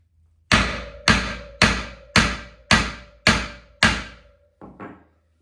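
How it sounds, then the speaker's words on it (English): A hammer strikes a bent KTM 890 Adventure R off-road motorcycle wheel rim in seven hard, evenly spaced metallic blows with ringing decay, then one softer final tap, close and alone. "These rims are pretty tough, so you got to give it a good whack."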